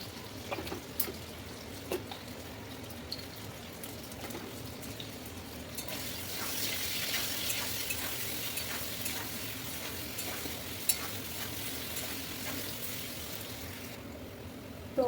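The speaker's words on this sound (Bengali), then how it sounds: "আলুগুলো একটু ভেজে নিচ্ছি। একটু লবণ আর হলুদ দিচ্ছি।" Potatoes fry in oil with salt and turmeric, giving a steady, close sizzle that runs the whole time, with faint stirring clinks and no talk.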